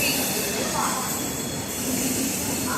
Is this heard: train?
yes